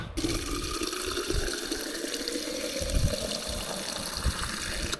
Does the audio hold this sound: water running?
yes